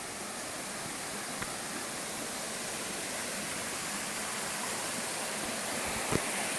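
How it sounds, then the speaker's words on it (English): High spring river water rushes steadily down a canyon, a broad constant roar close by with no breaks, heard at a riverside camp. "Water just rushes down here in the spring"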